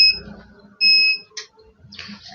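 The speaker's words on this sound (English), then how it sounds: "that was the sound of my inverter" Inverter alarm during a power outage, sounding as two short high-pitched electronic tone beeps separated by a pause, followed by a brief chirp and some background noise.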